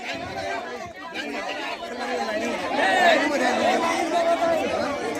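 Crowd of people gathered at a distribution event, a dense constant babble of many overlapping voices close by, swelling slightly louder partway through and holding steady.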